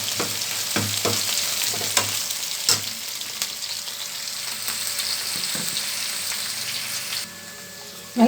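Green chilies, curry leaves and onions sautéing in a pan for mutton sukka, a steady moderate sizzle with occasional spatula knocks and stirs, briefly dropping quieter near the end.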